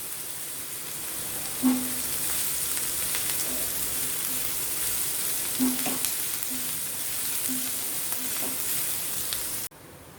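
Curry leaves crackle in hot oil for a cabbage and carrot sabzi, a close, steady sizzle broken by a few scraping stirs before cutting off abruptly near the end.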